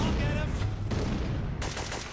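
Dense, loud gunfire fills the Syphon Filter 2 video game in the Colorado Rockies mission, with continuous bursts of shots and booming noise across the whole short stretch.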